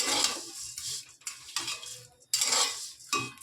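Flattened rice (chira) is tossed and stirred in a frying pan, giving bursts of dry rattling and scraping in uneven strokes with short pauses between them and a light sizzle underneath. No voices are heard.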